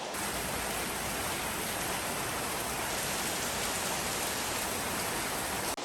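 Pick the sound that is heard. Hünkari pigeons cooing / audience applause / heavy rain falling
heavy rain falling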